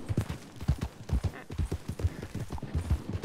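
Horse hooves clip-clop in a quick, regular rhythm, close and clear, as the animal trots steadily with no other prominent sounds.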